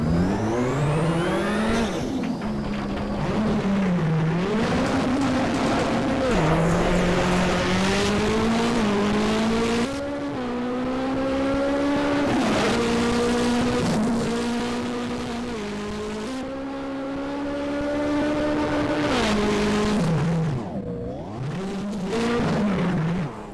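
Citroën DS3 WRC rally car in Richard Burns Rally, engine droning loud and steady with rising and falling revs as it slides hard on a very fast stage, tyres scrubbing underneath, no talk.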